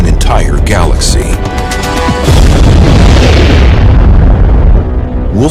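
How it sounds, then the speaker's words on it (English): A supernova explosion sound effect: a deep, roaring boom swelling into a loud, sustained rumble that fills the clip, with higher sweeping tones early on. "the outer layers fall in on top of it and bounce outward in a tremendous explosion"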